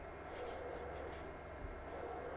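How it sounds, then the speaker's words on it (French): A rear case fan on an Artillery Hornet 3D printer gives off a steady, low whirring hum, faint and unbroken throughout with no voices. "Ce que vous entendez, c'est principalement le ventilateur du boîtier à l'arrière."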